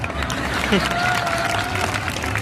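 A comedy show audience in Udaipur claps together in a broad, steady wash of applause that runs through the whole moment, with a voice over it near the start.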